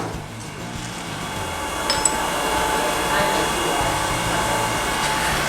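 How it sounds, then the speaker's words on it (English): A grinding machine works metal toward a mirror finish, its steady whirring hum running throughout with a faint metallic clink partway through, no speech heard. "make sure I'm grinding the correct side"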